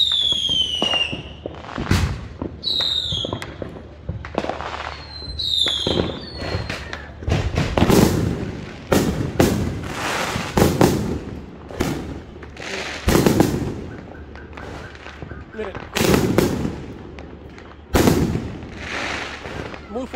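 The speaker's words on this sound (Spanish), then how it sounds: "Muy fuertes esos cohetes." Loud fireworks rockets bursting in a rapid irregular series of sharp bangs and crackles, with whistling launches at the start, some people talking faintly between the blasts.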